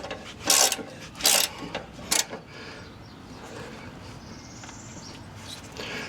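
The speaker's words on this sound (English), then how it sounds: "So we're just going to hold on and ratchet it down." A ratchet tightens sway bar bolts on a Jeep axle during a Steer Smarts HD sway bar install, giving three short bursts of rapid clicking close by, then quieter handling noises.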